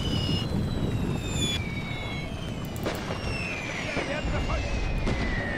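Artillery fire in the World War 1 game Total War, heard as a continuous loud rumble of distant shelling and booms with whistling shells overhead, steady throughout.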